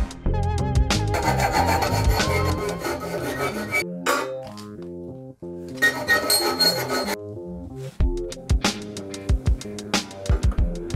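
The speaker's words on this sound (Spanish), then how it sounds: "voy a limar un poco el tubo de arriba para inclinar un poco más el tubo de dirección" A file rasps against the steel top tube of a bicycle frame being modified for gravel use, heard as close, loud, rhythmic scraping strokes with metallic ringing and brief pauses between bursts.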